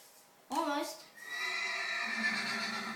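A horse neighs in the Minecraft modpack Crazycraft, a loud, rising whinny followed by a sustained tonal game sound, with no talk over it.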